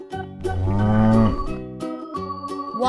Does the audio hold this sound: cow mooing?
yes